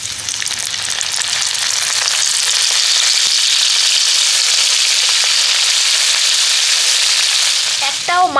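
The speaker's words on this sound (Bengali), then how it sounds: "বাকি মাছগুলো একই রকমভাবে ভেজে নেব।" Lote fish frying in hot oil for a rainy-day meal, a loud, dense, continuous crackling sizzle close up, steady throughout, with a brief clatter near the end.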